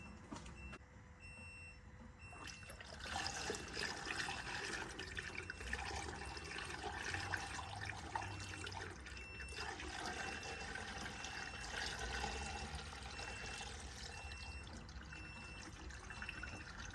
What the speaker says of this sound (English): So I will put back coolant.